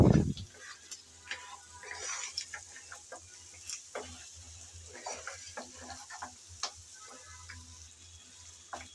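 Spices being stirred and sautéed with goat leg for haleem, a soft crackling sizzle under a steady run of light scraping and tapping strokes from a spoon in the pot, with no talk.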